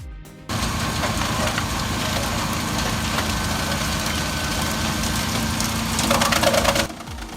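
A fast wood chipper driven by a New Holland diesel tractor runs with a steady, heavy engine drone and rattling feed noise that swells louder for a moment near the end before cutting off.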